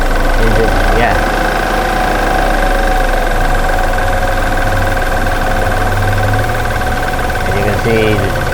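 A car engine idles roughly after an air hose came off behind the mass airflow sensor, loud and close with an uneven, shaking rumble that continues throughout.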